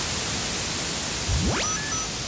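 A steady hiss of synthesized noise from drums fed through a drum synth, broken by a quick rising electronic sweep and a few short high tones.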